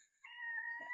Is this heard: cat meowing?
yes